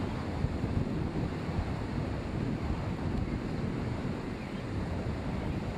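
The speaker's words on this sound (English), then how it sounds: "the south wind rises and intensifies, becoming nearly a gale off the water" Strong south wind blowing in off the Gulf waters, nearly gale force, as a steady broadband roar with gusty buffeting close to the microphone, continuous throughout with no voices.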